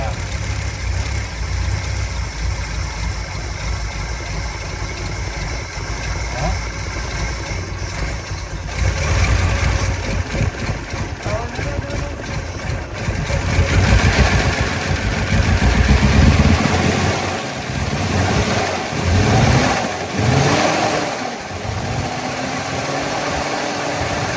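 A 1964 Studebaker Avanti R-2 V8 with a freshly replaced rebuilt fuel pump runs steadily at idle, then rises in a few moderate revs before settling, loud and close, with some talk over it.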